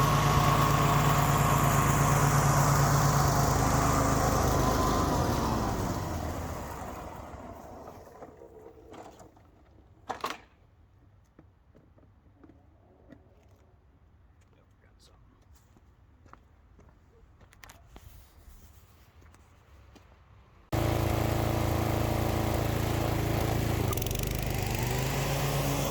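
Toro TimeMaster 30 walk-behind mower engine running loud and close, then fading as it sputters out, followed by a quiet stretch with scattered clicks before the steady drone returns abruptly near the end.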